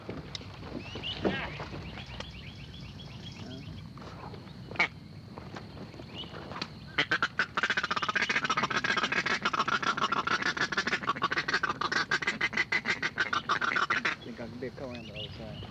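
Wood ducks on calm water give scattered calls, followed by a long run of rapid, clustered clicking and chattering sounds, moderately close and steady, over a quiet outdoor background.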